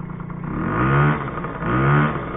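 Diesel van engine, a Daily with about 50,000 km, revved twice in steady swells, close and loud with no talk over it.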